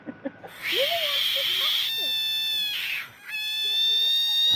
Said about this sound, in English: Enjoy the screaming frog for those of you that haven't seen it.